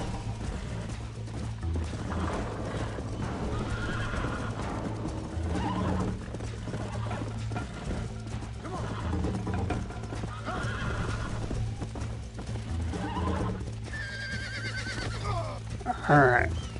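Horse hooves clip-clopping at a steady pace with repeated neighs and whinnies in the Red Dead Redemption video game, fairly faint under a low background hum, a sharper whinny near the end.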